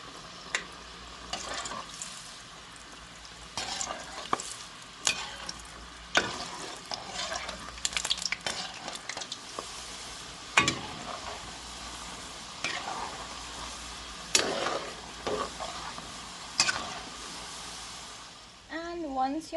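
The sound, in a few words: kurma frying in hot oil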